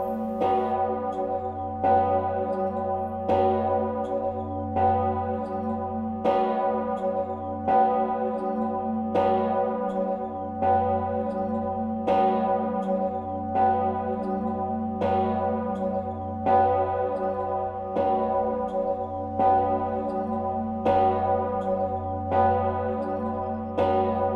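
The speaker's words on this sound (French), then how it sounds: "Lorsque nous enregistrons le tintement des cloches, c'est qu'il y a une information à passer." Church bells ring in a steady, evenly spaced peal, each loud resonant strike leaving a long humming decay under the next one, sustained for over twenty seconds with no voices.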